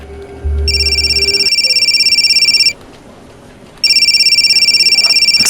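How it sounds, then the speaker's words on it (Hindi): A telephone rings with bursts of bright electronic trilling during an office scene in a Pune crime drama. Two long ringing bursts are separated by a short pause, loud and close. "मेरी मम्मी का फ़ोन है, क्या मैं ले सकती हूँ?"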